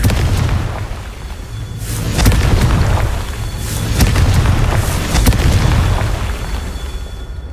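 Confringo blasting spells explode in Hogwarts Legacy, a series of loud, deep booms that burst and roll away amid a dense, rumbling backdrop, with several heavy blasts landing a second or two apart.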